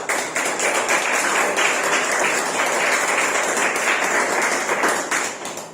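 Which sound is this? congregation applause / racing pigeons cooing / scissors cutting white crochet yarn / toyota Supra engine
congregation applause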